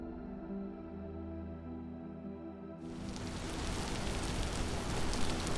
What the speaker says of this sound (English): We still have some rain going on out here.